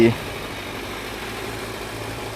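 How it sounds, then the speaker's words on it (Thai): A steady, low Kawasaki Versys motorcycle engine idle rumbles continuously without revving, fairly loud and close. "เสียงเดินเบาก็ดี เสียงตอนเร่งเครื่องก็ดี"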